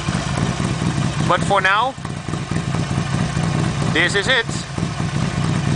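Harley-Davidson Sportster 48 with a Torque Hammer full exhaust and no dB killer idles in a steady, loud low rumble throughout, with someone talking over it in two short bursts.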